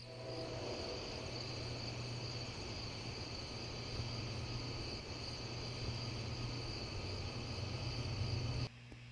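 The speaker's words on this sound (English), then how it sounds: "Crickets and what I'm calling an ambient field with train." Crickets in an ambient field recording at night, a dense, steady high chirring with several overlapping tones above a low continuous hum, constant and fairly close until it cuts off abruptly near the end.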